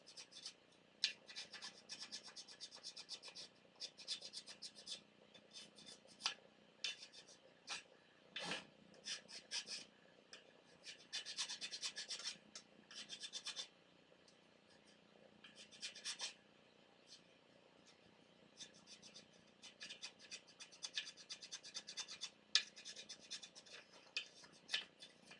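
A fine file rasps against a small part in short, faint, close scraping strokes with quiet pauses between bursts, soft breathing audible in the background.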